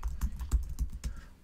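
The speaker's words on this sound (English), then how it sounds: "then we need to search by typing Brave browser and then hit enter key" Quick keystrokes on a computer keyboard, about eight or nine sharp, close clicks in an uneven typing rhythm with nothing else heard.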